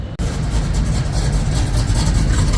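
Car engines idle at the Syracuse Nationals car show, a loud, steady low rumble with a slightly pulsing throb after an abrupt start, no voices.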